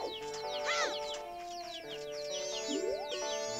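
Chickens clucking and squawking in the video game Zelda: Majora's Mask 3D, several bright overlapping calls with steady game music underneath, no talk.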